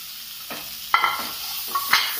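Tomatoes fry in oil for a Palakkad-style beef biryani as a spatula stirs them, making a steady moderate sizzle broken by several sharp scraping strokes against the pan.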